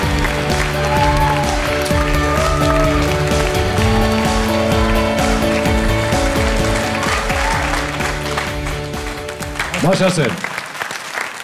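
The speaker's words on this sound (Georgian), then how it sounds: "გავაცილოთ აპლოდისმენტები" Audience applause on a televised singing competition stage, a broad steady clatter of clapping across the whole span under music, with a host speaking over it.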